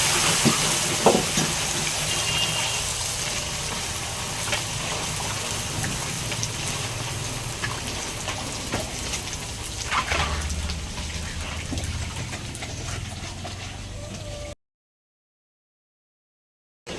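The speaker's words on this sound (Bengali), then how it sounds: "আর এইখানে কিন্তু ফুচকা ভাজা হচ্ছে" Fuchka puris fry in palm oil at a roadside stall, giving a steady, close, dense sizzle with faint stirring and occasional crackles that run continuously before cutting to silence near the end.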